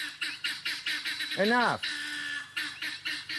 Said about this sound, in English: So the guineas are separated and having a fit.